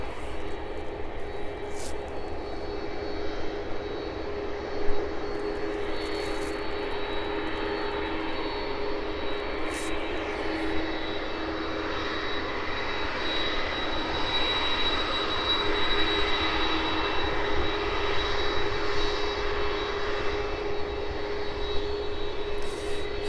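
A Boeing 767 lines up and powers its engines on runway 09 at East Midlands Airport, bound for Brussels: a steady broadband jet roar at a moderate distance that swells slightly toward the end, with no voices.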